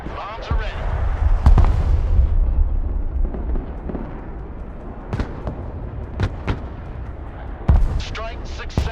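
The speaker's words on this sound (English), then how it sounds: "Bombs are ready." Aerial bombs exploding during an air base assault mission in a war video game, heavy rumbling blasts at the start followed by a series of sharp, distinct detonations spread across the clip, some close and loud, with game voices in the mix.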